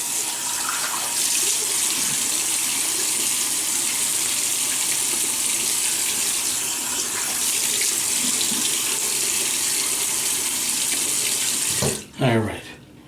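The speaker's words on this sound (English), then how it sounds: "let me wet the face." Tap water runs steadily into a sink with a loud, continuous rushing splash while a man wets his face before shaving, stopping near the end with a brief knock and splashes.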